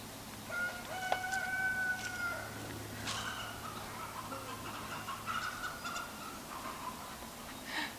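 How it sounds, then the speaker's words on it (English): Chickens cluck and squawk from some distance in quiet outdoor surroundings, a few agitated calls rising now and then over a low steady hum. "One of the chickens was not very happy about something over at the woods."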